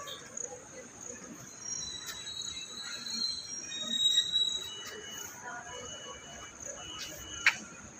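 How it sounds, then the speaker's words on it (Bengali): A train pulling into Durgapur station in the morning gives a faint, distant rumble with thin intermittent wheel squeals, and insects chirp softly in the background. "আমাদের ট্রেনটাও ঢুকে গেছে।"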